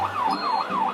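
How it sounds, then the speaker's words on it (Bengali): An ambulance siren wails in rising and falling sweeps, close and loud, as it sits stuck in heavy traffic, with a low engine rumble beneath. "অ্যাম্বুলেন্স ফেসে গেছে, আমাদের সাহায্য করতে হবে।"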